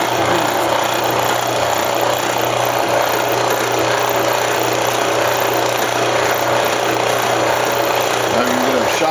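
A power drill boring into steel with a drill bit and cutting oil while building a UTV push bumper, a loud continuous grinding whir that holds steady throughout, with faint voices underneath.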